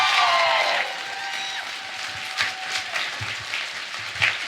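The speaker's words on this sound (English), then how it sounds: "First, give yourselves a round of applause for coming out" A live podcast audience applauds and cheers. The clapping starts loud with whoops, then settles into steadier, thinner applause with occasional sharper claps.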